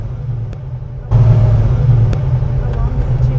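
A car engine fires up for a tuning test drive, a low rumble that jumps in loudness at startup and then idles steadily close by, with people talking over it.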